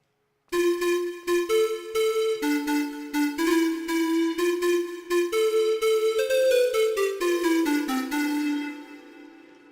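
A breathy synthesized flute ensemble patch in Reason's Grain, pan-flute-like, plays a quick melodic phrase of short notes, then settles on a sustained tone that fades out.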